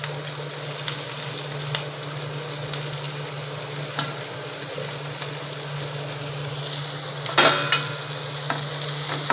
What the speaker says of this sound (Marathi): ला कांदा लालसर होईपर्यंत आपण तो परतून घेऊ